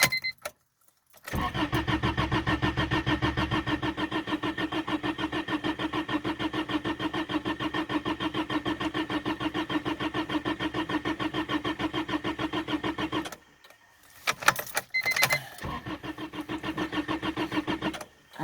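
A car engine that smells of fuel cranks steadily for about twelve seconds without catching, pauses with a few clicks and rattles, then cranks again, loud and close with no speech.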